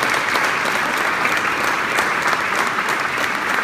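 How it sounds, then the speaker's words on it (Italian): An audience applauding Gino, the bell ringer, at a farewell gathering in Picinisco, with dense, even clapping from many hands throughout. "Un altro applauso a Gino."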